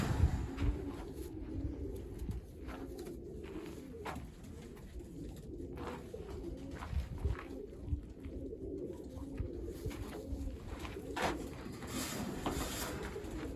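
Birmingham roller pigeons cooing steadily, soft throaty coos repeating over a constant low background hum, with a few faint sharper chirps and clicks scattered throughout.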